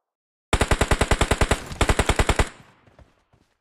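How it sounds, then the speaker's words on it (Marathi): A rapid burst of automatic gunfire in the mobile shooter BGMI, about twenty loud, evenly spaced shots with a short break partway through, then fading echo and faint game noise. "भिंतीत गोळ्या"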